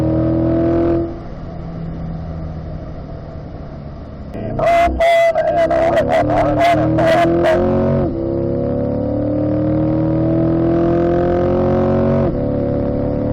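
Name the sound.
2020 Corvette racing on a track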